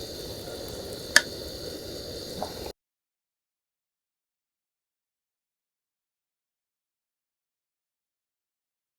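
Spice masala cooking in a pan for a Kadamba mushroom roast with malli masala, a steady soft sizzle with faint stirring and one sharp tick, lasting under three seconds before cutting to silence.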